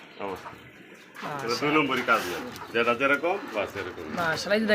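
A male pigeon, for sale with eggs and chicks, coos in rhythmic bursts close by while people talk over the sound.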